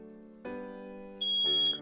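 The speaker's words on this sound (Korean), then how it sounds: "시간이 31분이 지나면 이제 얘도 삐 소리가 3번 나면서 끝나게 되는 거죠" An Arduino-built home training timer gives electronic beeps, a few sharp, sustained synthetic tones stepping up in pitch in a quiet room.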